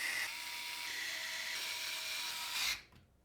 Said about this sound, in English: we'll screw the motherboard into place using 8 of the screws with the rounded head from the case accessory bag